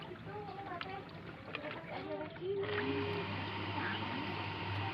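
A Panasonic water pump is switched on partway through and runs with a steady, close electric hum and whir while not drawing water. Someone talks quietly before it starts.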